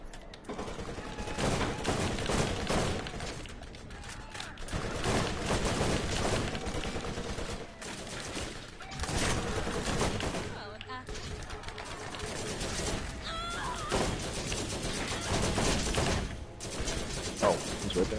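Rapid bursts of SMG fire in a video game, the Caustic character's weapon, crackling through a busy, dense soundscape with talk running over much of it.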